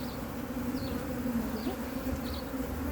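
A dense, steady hum of many honey bees buzzing close up in an open hive during a brood check, with individual buzzes rising and falling over the drone.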